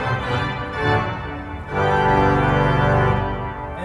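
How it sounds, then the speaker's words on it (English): Full swell of 16 foot chorus reeds on the pipe organ at Saint Patrick's church in Washington: a brief softer chord, then a loud, massive, buzzy reed chord swells in and sustains, filling the space with no voices. "16 foot chorus reeds. It's a full swing."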